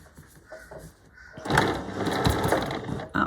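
A new sewing machine sews fabric bunting flags, starting after a quiet moment and running at a steady close whir with slight speed changes for about two seconds before stopping.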